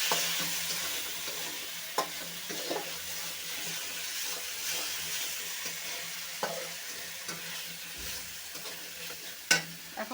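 Potato and pointed gourd pieces frying in a pan give a soft, steady sizzle with intermittent scraping and knocks of a stirring spoon, fairly quiet and close, no voices.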